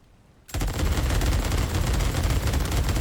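Suppressed MB150 rifle firing in Days Gone Remastered, a sudden burst of rapid muffled shots that starts after a brief quiet and then continues as a steady dense rattle, close and loud.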